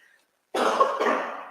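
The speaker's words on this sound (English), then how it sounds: "The coughing in the background." Two quick, harsh coughs close to the microphone, following a short silence, with no talking.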